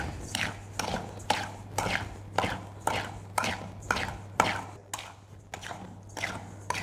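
Ground cinnamon being mixed into caster sugar, heard as evenly spaced stirring strokes, roughly two a second, each a short dry scrape, close and clear with no talk over it.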